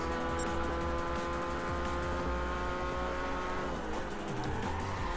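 Race cars in Gran Turismo 5 on the Grand Valley endurance circuit, a loud, steady engine drone with sustained whining tones that bend downward as the pack runs close together, with occasional tire squeal and no voices.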